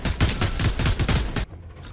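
Rapid bursts of sniper gunfire in the Fortnite video game crack loudly in a quick series of about six shots, then cut off abruptly into near silence.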